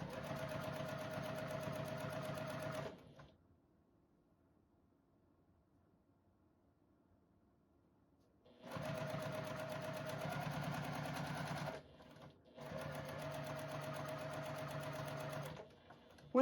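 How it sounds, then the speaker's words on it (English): A JUKI sewing machine stitches down the top edge of a fabric dog bandana, running in two steady bursts of rapid mechanical hum with a long silent pause between and a brief stop near the end. "I'm now stitching the top edge down."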